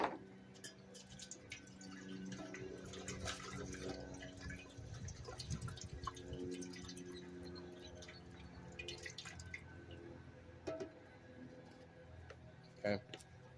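Hydrogen peroxide poured from a gallon jug into a large acid tub for dissolving LCD panels, a trickling, dripping liquid sound with faint clunks, and speech can be heard at moments.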